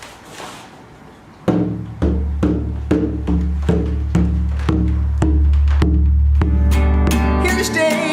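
A handmade traditional hand drum, freshly dried, is struck about a dozen times in a steady, even beat, each hit a resonant booming thump with a ringing tail, loud and close, with a brighter flourish near the end.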